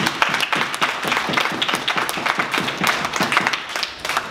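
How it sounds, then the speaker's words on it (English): Guests at a graduation party give a round of applause, producing dense, steady clapping from a nearby crowd with rapid overlapping claps and no talking. "Can we give a round of applause for him?"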